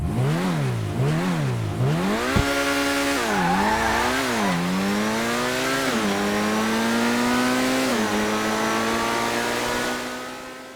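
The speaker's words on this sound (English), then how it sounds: "For our first vehicle, we have the Itali GTB." An Itali GTB supercar in GTA 5 revs loudly, its engine note rising and falling in several quick surges before climbing into a long, steady high-rpm howl that fades at the end, with no talking.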